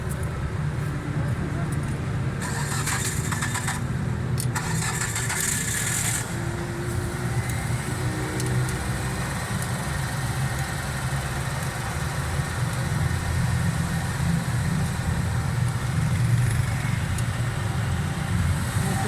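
A Hyundai Santro engine with a fuel fault runs steadily at idle, a continuous low rumble with faint higher clatter near the start.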